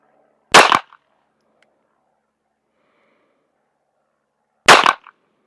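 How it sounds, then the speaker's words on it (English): Two sharp, loud pistol shots fired with a green dot sight at a target 7 yards away, spaced about four seconds apart with near silence between them. "I'm going to take 3 very precise aimed shots at the very middle of that X from 7 yards with my beautiful green dot"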